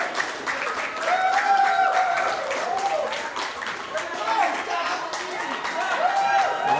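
A crowd applauds at a 2024 WPA World Championship pool semi-final in New Zealand, sustained dense clapping with a commentator talking over it.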